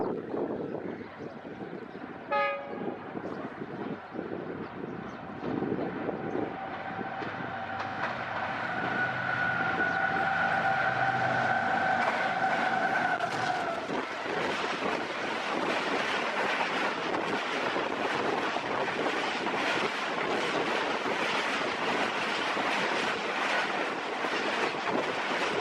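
The Pakistan Express, hauled by locomotive 9012, runs at high speed through Jungshahi railway station in Sindh, sounding a sustained horn as it nears before a loud, rushing roar of wheels and carriages sweeps past.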